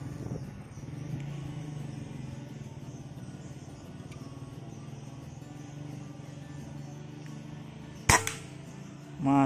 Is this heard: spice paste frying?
no